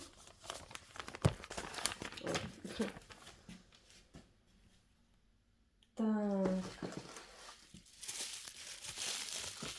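Paper bags rustle and crinkle in bursts near the start and again at the end, with a brief spoken word and a short hum in between.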